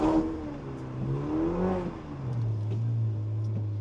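Car engine revving hard in first gear during a drift, rising and falling through a couple of sweeping pitch changes before settling into a steady high drone.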